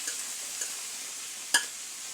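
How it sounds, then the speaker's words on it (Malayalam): Vegetable thoran being stirred and sautéed in a pan, a faint soft sizzle with a few light stirring scrapes and one sharp utensil tap near the end, no voices. "അതിന് ശേഷം ഇതും കൂടെ ഒന്ന് ഉലർത്തിയെടുക്കാം. ഇങ്ങനെ ഒന്ന് ഇളക്കി എടുക്കാം."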